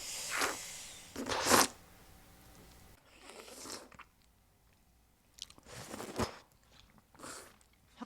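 Bites into a trendy crackled-crust dessert bread, with crisp crunching bites followed by softer chewing in several close bursts separated by quiet pauses, intimate and near with no talking.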